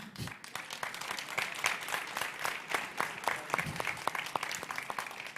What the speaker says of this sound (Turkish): Alkış az çıktı.